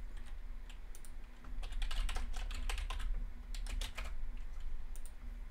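Rapid typing on a computer keyboard, close and steady, with clustered bursts of key clicks over a low background hum and no talking.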